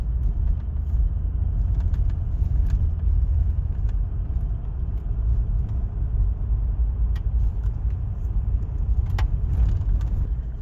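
A vehicle rolls slowly into the Corella Dam free campsite with a steady low engine and road rumble, plus faint rattles and clinks from inside the cab throughout.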